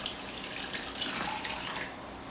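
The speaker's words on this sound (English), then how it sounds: "You're going to pour the water into that." Warm water pours into a bowl holding sugar for bagel dough, a soft, brief trickling splash with no speech.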